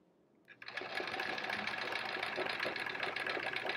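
A sewing machine starts up and runs steadily at speed, free-motion quilting through fabric in a quilt-as-you-go block, a close, continuous whirring chatter with no talk over it.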